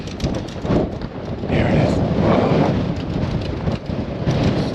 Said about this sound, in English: Getting blown around by the wind if you can hear it